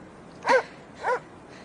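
Two short, fairly faint dog barks or whimpers, about half a second apart, over a quiet hiss with no talking.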